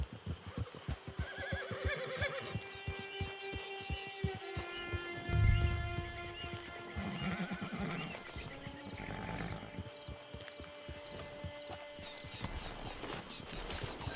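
In a Red Dead Redemption 2 game scene, a horse whinnies loudly several times over steady, close clip-clop hoofbeats, with a louder snort or burst near the middle.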